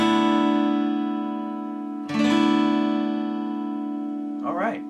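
A guitar chord strummed across five strings with the low E left out rings out and sustains, then a second strum follows; a voice briefly speaks as the sound decays.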